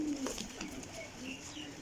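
Racing pigeons give a faint, brief cooing, low and soft against quiet background noise.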